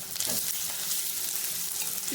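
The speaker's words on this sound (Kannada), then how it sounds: "ಇಲ್ಲಿ ನೋಡಿ ಒಗ್ಗರಣೆ ಹಾಕ್ತಾ ಸ್ವಲ್ಪ ಇನ್ನೂ ಸ್ವಲ್ಪ ಆನಿಯನ್ನು ಬ್ರೌನಿಶ್ ಬರಬೇಕು" Onions frying in a tempering for chicken chops, a brief, steady close-up sizzle and crackle of hot oil with a light stirring scrape.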